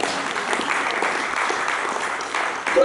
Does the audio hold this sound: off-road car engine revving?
no